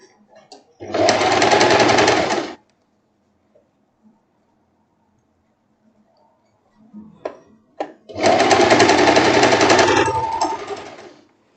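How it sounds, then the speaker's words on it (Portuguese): A sewing machine stitching a simple hem on bias-cut fabric, running in two loud steady bursts of about two seconds each, separated by a quiet pause with small handling clicks. "Quando você tá costurando essa parte aqui do tecido enviesado, não força muito ele não"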